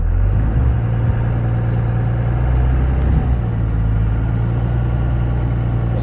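A Cummins diesel truck rumbles with a deep, steady engine drone, loud and close, holding at a constant low throttle without a clear launch surge.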